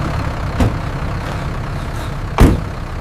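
Stopped trucks idling at a police check, a steady low engine rumble with two brief louder thumps, no talk.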